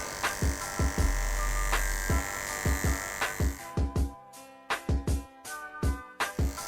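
Andis BGRV detachable-blade hair clipper buzzing steadily up close while cutting a fade, its hum broken by a rhythmic series of short strokes and bursts as the blade passes through the hair.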